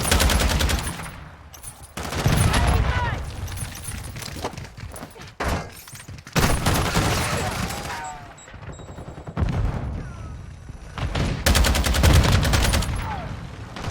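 Dense bursts of automatic gunfire from Call of Duty: Modern Warfare 2 come in several loud waves separated by brief lulls. Game chatter and effects are mixed in with the shooting.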